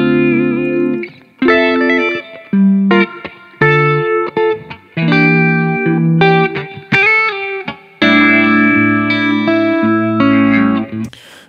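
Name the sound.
original guitar stem playing in Ableton Live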